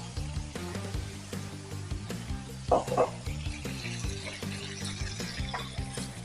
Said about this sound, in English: we're just going to hit the pan with about, I would say about 5 or 6 ounces of white wine